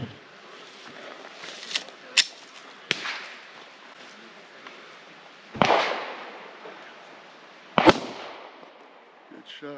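Pistol shots fired at targets on an outdoor range, four or five sharp, loud cracks spaced irregularly over several seconds, each followed by a short echoing decay.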